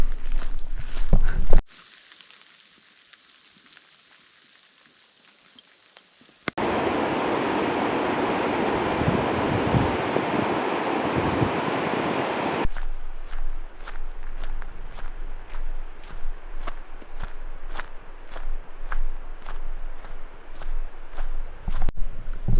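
Freezing rain and gusty wind hit a hiker on a trek in western Greenland: a roaring wind-and-rain wash gives way to steady crunching footsteps in a regular rhythm, with a quiet near-silent stretch at the start.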